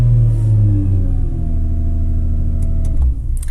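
A Nissan GTR engine fires up and settles into a loud, deep, steady idle rumble close by, with a few faint clicks near the end and no voices.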